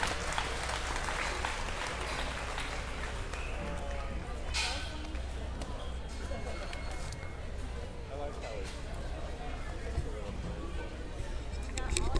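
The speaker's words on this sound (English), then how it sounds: "Give them a good round of applause." Audience at the 2021 Arizona National swine showmanship applauding young exhibitors in an arena, a continuous wash of clapping under an announcer's voice, with livestock noise and arena clatter mixed in.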